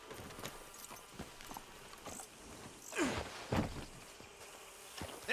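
Horse hooves clip-clop in Red Dead Redemption 2, a scatter of quiet, close footfalls on hard ground with a couple of louder thuds midway, under faint ambient rustling.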